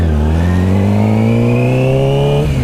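A Yamaha R6 sport motorcycle engine revs loud and close, a sustained high-pitched whine that climbs steadily in pitch, then drops briefly near the end, with no talk.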